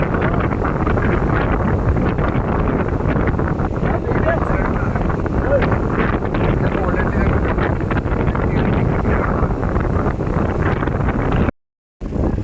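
Strong, steady wind roars across the hilltop at Ramakkalmedu, buffeting the microphone in a dense, unbroken rush that cuts out briefly near the end.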